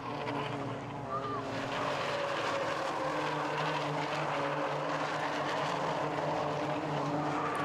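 Rallycross race cars at Lydden Hill bounce across loose surface and back onto tarmac, engines droning steadily and loudly throughout, with a faint rising whine partway through.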